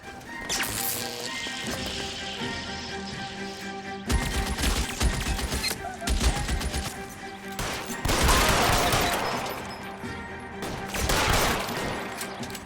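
Rapid bursts of gunfire in a video game shootout crackle and crash in dense volleys, loud and close, with brief pauses between clusters of shots.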